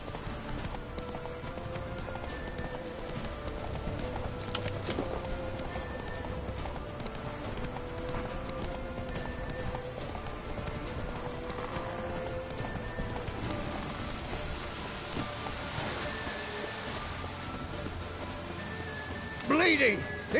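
Roach, a horse in The Witcher 3, gallops with a steady run of hoofbeats under game ambience and music, with a short sharper burst near the end.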